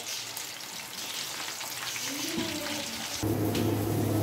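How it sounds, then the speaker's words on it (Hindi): Beef seekh kebabs fry in a pan with a steady hiss of hot oil, close and even. A brief scrape or stir shifts the tone near the end, and nobody talks. "इसी तरह हमने सारे कबाब फ्राई कर लेने हैं।"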